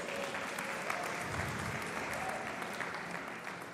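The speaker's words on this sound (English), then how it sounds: "One more round of applause." An audience at an engineering awards ceremony claps for an award winner, a steady, even wash of applause lasting several seconds at moderate volume, with no voices standing out.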